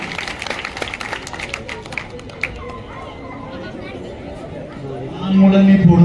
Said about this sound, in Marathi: आता ब्लॅक साठी आधी टाळ्या पाहिजेत